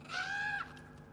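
A crow caws once in God of War Ragnarok, a single drawn-out, slightly falling call against quiet game ambience, moderately close and with no talking over it.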